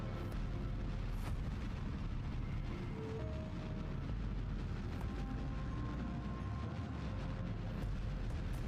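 A Kerbal Space Program rocket launch produces a continuous, heavy, low rumbling roar, dense and sustained for the whole stretch with little variation.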